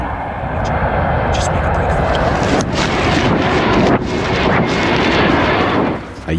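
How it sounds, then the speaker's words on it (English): An American military transport plane roars overhead during a combat training drill, a loud continuous broadband rumble with wind buffeting that fills the whole stretch, while someone speaks briefly over it. "help came in the form of an American transport plane"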